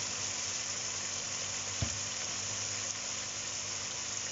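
Diced chicken fries in a pan with a steady, even sizzle, broken once by a brief knock of a utensil, close and alone without voices.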